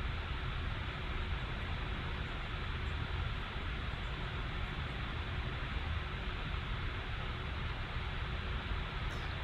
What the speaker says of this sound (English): this machine is like I said, it's mining, so the fan's running high